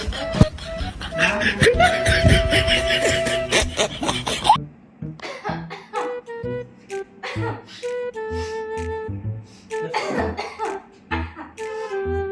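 Someone coughs in rough bursts up close at the start, followed by people talking with a few more short coughs and throat noises.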